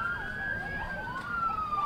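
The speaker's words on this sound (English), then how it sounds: "we have the emergency vehicles with all of their sirens going" Police and fire emergency vehicles roll through a small-town summer parade in Orland Park with sirens wailing, loud and close, with steady rising-and-falling tones over faint vehicle rumble.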